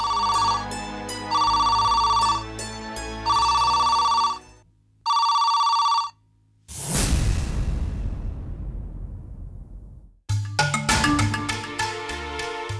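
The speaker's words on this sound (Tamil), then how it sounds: "எவ்வளவு நேரமா போன் அடிச்சிட்டு இருக்க" A telephone in a home rings with a loud electronic ring in repeated bursts, broken midway by a dramatic whoosh-and-crash sound effect, then the ringing starts again.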